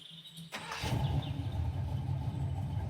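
A vehicle engine cranks and catches after a short click, then settles into a steady, rumbling idle close by.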